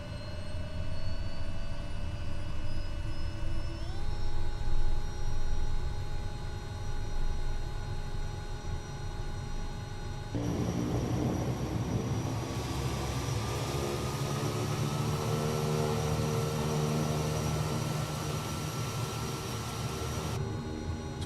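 A Simworks Studios Kodiak 100 turboprop starts up in Microsoft Flight Simulator 2024, a rising whine with tonal steps during low motoring, then a louder broadband turbine roar as fuel lights the engine, steady and close with no talk.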